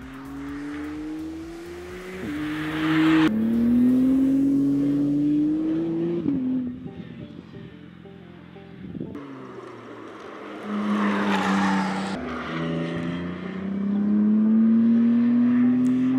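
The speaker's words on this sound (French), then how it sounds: "Je sors tout juste de piste avec la McLaren Artura" A McLaren Artura hybrid sports car drives on a Las Vegas circuit, its engine rising and falling through repeated upshifts and revs, with tire squeal and a near, loud pass.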